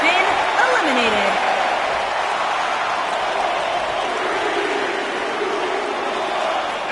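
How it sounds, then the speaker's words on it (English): Crowd noise from a WWE 2K19 Royal Rumble match, a steady roaring arena crowd chanting a countdown as a wrestler is about to enter, loud and continuous throughout. "Listen to this crowd count the next one in."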